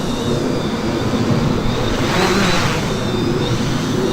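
An autonomous drone flies outdoors in strong wind, its motors giving a loud, continuous buzzing hum mixed with wind rush that swells slightly midway.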